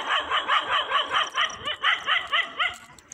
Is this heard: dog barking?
yes